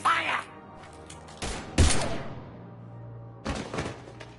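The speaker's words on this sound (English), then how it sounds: "Now open fire!" Gunfire in the video game Mass Effect 3 comes in a few sharp bursts with gaps between them, loud and close, alongside game voices talking.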